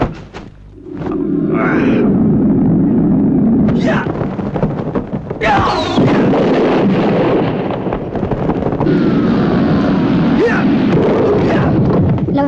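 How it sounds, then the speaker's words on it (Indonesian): A booming magical explosion effect from an Indonesian radio drama, with several loud roaring bursts and rumbling blasts in sequence, dense and wind-like between the hits. "Bunyi ledakan ajian cadas ngampar tadi terdengar sampai ke pinggiran bukit"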